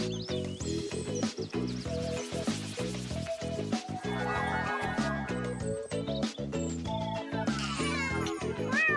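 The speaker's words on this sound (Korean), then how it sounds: "고양이가 물고기를 좋아해요." A cartoon cat meows repeatedly in a children's educational cartoon, with bright, high-pitched, tonal meows over a busy musical backing that continues throughout.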